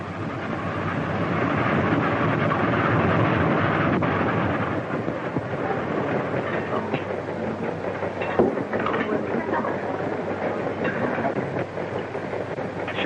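A train in a 1936 film rumbles along the rails with a continuous heavy roar and faint rhythmic clatter, steady and fairly loud throughout.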